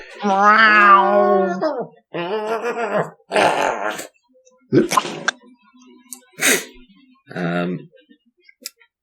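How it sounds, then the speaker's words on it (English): Cat meowing heard during a Ghost Hunters video game session, several drawn-out wavering meows and short yowls separated by pauses, fairly close and clear over a quiet background. "there's a good deal of cat meowing in the background that your equipment's picking up"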